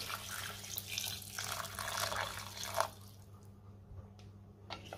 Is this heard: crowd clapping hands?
no